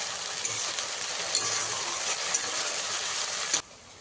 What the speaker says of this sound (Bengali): আদা রসুন বাটাটা দিয়ে খুব ভালো করে মশলার সঙ্গে ভেজে নিতে হবে।